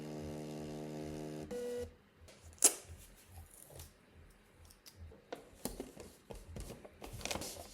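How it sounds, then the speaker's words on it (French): A small printer reprints a gift label: a steady motorized whir with a tonal hum runs for a moment and cuts off, followed by scattered clicks and light paper handling. "je vais reprendre l'imprimante et je vais réimprimer l'étiquette"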